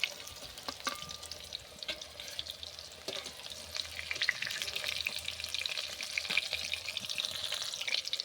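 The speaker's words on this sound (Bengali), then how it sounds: "একটু লাল লাল করে ভেজে নেব।" Cabbage pieces fry in oil in a kadai, a soft close sizzle with scattered crackles and light pops that grows slightly busier toward the end, no voices present.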